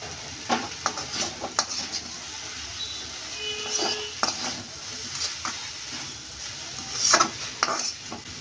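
Potatoes with coriander roast in a pan for a spiced aloo mungfali snack, with scraping spoon strokes and light clinks over a soft, steady sizzle at moderate loudness.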